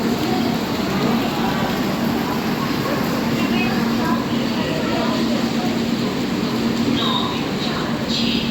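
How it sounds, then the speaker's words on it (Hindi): Heavy rain pouring down at an Indian railway station beside a waiting train, a dense, even hiss of falling water that stays loud and constant throughout while someone talks over it. "देखिए बारिश बहुत तेज़ है भाई"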